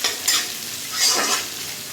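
Whole cumin seeds being stirred in a hot pan, two short scraping sizzle bursts close by, with no talking.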